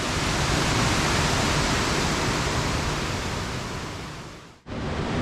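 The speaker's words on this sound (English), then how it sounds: "Sit over here so we can hear the waterfalls and see the waterfalls." Rainforest waterfalls in Veracruz, Mexico, pour in a steady, loud broadband roar close to a restaurant table, with one brief dropout near the end.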